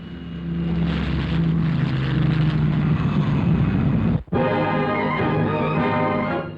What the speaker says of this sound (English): the turbine propeller, the engine that is opening fresh vistas of simplicity, efficiency, speed